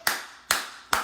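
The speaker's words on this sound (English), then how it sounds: "Please clap." Three sharp, evenly spaced claps ring out close and alone in under a second, each a crisp, bright burst with a short decay.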